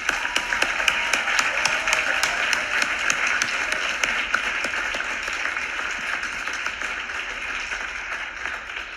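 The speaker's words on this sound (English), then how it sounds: "join me in a round of applause for the families" Sustained applause from a graduation ceremony crowd, honoring the graduates' families: dense, even clapping from many hands that holds steady at full strength for about nine seconds, with no talking over it.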